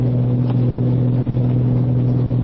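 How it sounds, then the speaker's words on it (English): Low steady exhaust rumble from a Honda Goldwing motorcycle cruising on a highway, a continuous droning hum with a few brief dips, close and loud with wind noise. "When those exhausts, they sound good."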